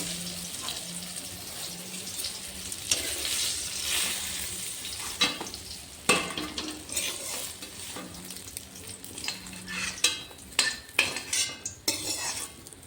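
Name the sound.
frying eggplant in oil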